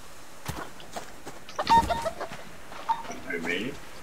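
Chicken clucking, a few short clucks and squawks scattered through a quiet stretch, close but not loud, amid light background noise.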